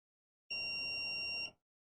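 A buzzer on a Raspberry Pi Pico sensor kit gives a single steady electronic beep lasting about one second, clean and alone against silence.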